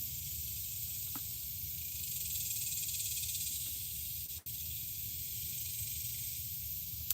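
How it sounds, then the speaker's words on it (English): Cicadas buzzing outdoors in a steady, loud, high-pitched drone that holds unbroken throughout, with a faint low rumble underneath and one brief click partway through. "No, those are cicadas, not rattlesnakes."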